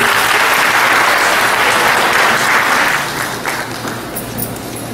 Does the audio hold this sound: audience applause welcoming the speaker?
yes